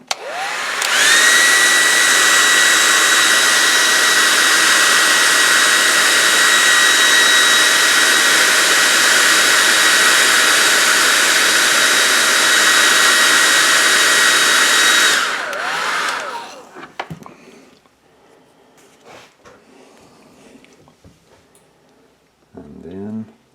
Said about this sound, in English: get my little hair dryer here